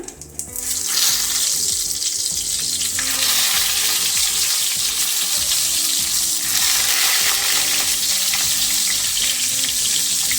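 Brinjals hit hot mustard oil with cumin, bursting into a loud, close, continuous sizzle after a quieter second of spluttering oil, crackling steadily to the end.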